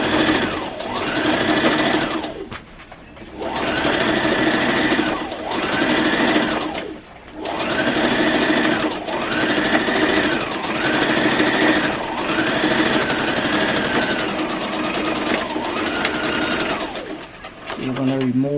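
A sewing machine stitches and backstitches a front pants dart on a red zip-front jumpsuit, in repeated steady whirring runs of a few seconds each with short pauses between, close and fairly loud.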